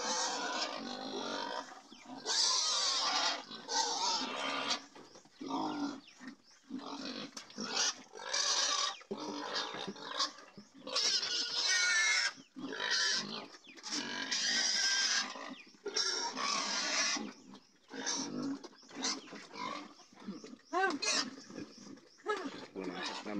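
Pigs grunt and squeal repeatedly in overlapping bursts, fairly close and loud, with no talking.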